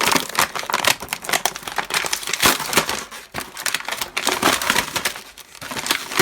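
Packaging on a Rampage movie toy figure box is opened up close. Dense, loud crinkling and tearing of plastic and cardboard continues throughout with sharp rustling bursts, and no speech is heard.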